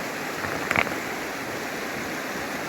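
A mountain river in Adygea, near a high suspension bridge and rocky cliffs, rushes steadily in a constant broadband wash of flowing water, with a brief louder splash or knock near the middle and no voices.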